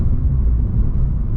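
A steady low rumble from the 1.4-litre turbocharged engine of an Abarth 595 Competizione as it changes up a gear, heard close and fairly loud from inside the car.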